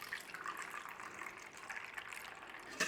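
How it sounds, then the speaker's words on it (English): Evaporated milk poured into beaten eggs, a faint, continuous liquid pour lasting a few seconds with a small clink at the end. "In with our evaporated milk."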